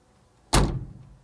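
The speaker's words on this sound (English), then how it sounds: "And this door also can close." A corn combine harvester's cab door swings shut with a single loud, close thud that fades quickly into a brief rattle.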